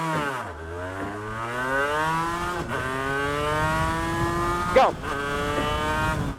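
A 250cc two-stroke V-twin sportbike accelerates hard, its buzzing engine climbing in pitch through several gear changes, loud and close, with a brief voice at the start.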